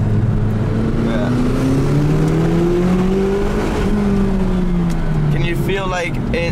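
A McLaren 570GT sports car climbs a volcano road on hot, smooth asphalt, its engine a steady, close drone whose pitch rises and falls with the throttle throughout, with faint cabin noise underneath.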